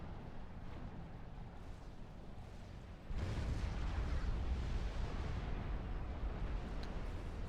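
Heavy explosions from a nanobot weapon in the strategy game Supreme Commander 2 roll continuously. The roar swells sharply partway through into a dense, loud barrage, with no voices.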